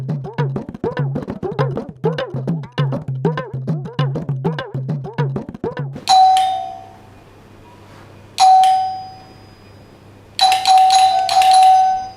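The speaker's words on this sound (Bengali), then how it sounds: "কতক্ষণ ধরে কলিং বেল বাজতেছে" A doorbell rings three times in separate bursts, each a bright chime, after a stretch of rapid rhythmic mechanical chatter at the start.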